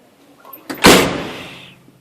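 A single hard slam of a car door on an Alfa Romeo GTV, a sharp close thud with a brief rattle that decays quickly into quiet.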